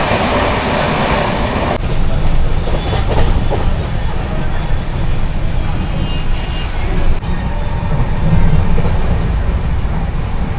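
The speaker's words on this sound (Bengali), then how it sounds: "ট্রেন মোটামুটি ভালোই চলছে, আর কিছুক্ষণের মধ্যে আমরা পৌঁছে যাব বর্ধমান জংশন।" The 13149 Kanchankanya Express from Sealdah to New Mal Junction rumbles along the rails near Bardhaman, a dense, continuous low roar with rattling carriage noise, heard from on board with some talk in the background.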